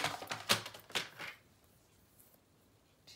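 Scissors snip through paper for a mini album tag, several crisp cuts in quick succession close up, then the room falls nearly silent.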